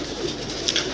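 Pet pigeons kept by a fancier coo close by, a soft continuous rumble with a couple of brief louder calls, no talking.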